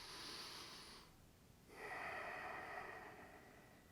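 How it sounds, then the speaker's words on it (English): Two deep breaths, a long inhale followed by a pause and a long exhale, close and quiet, with no talking. "Let's take a deep breath together"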